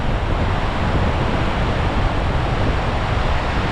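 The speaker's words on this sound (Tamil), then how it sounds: "காற்று தான் வந்து ஓவராக அடிக்குது." Strong wind blows across a bridge in Dong Valley, a village near the Chinese border, making a steady, loud, rumbling roar that buffets the microphone throughout.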